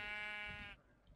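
A single sheep bleats in Minecraft, a close, wavering tone that holds steady and then cuts off abruptly, leaving only faint game ambience.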